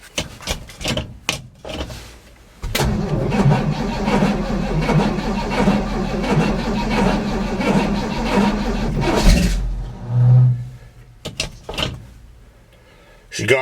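A car's cold engine fires up on a snowy day and runs with a loud, rough rumble for several seconds before cutting back, with quieter knocks and handling noises before and after.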